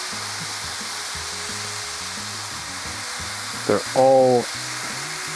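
Thin sausage patties frying on a flat griddle, a loud continuous sizzle and crackle with a brief scrape as one is flipped, and someone speaking a few words near the end.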